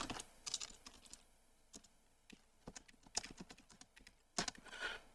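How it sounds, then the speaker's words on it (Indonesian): A computer keyboard typing a Metasploit console command on a Linux machine, with quiet, close, irregular keystrokes clicking in uneven bursts with short gaps. "Ini saya kasih spasi dulu dan ketik."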